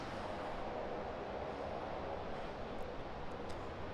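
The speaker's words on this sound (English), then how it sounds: "787 taxiing out" A Qantas Boeing 787-9 taxis out at Sydney Airport, its engines a steady, low, distant rumble and roar that holds evenly throughout, with no voices.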